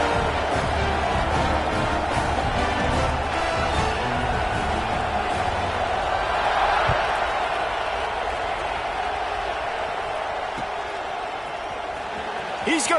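Steady broad roar of a stadium crowd at a video game football match, sustained and dense throughout, with a voice talking over it at times.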